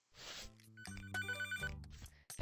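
Papa's Freezeria video game audio: short electronic ringing tones mixed with chiming game music, brief and close.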